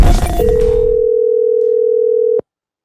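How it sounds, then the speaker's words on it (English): An outgoing telephone call gives a single steady electronic tone that holds for about two seconds after a burst of clattering noise, then cuts off abruptly. "So I'm going to call him right now and hopefully he answers the phone."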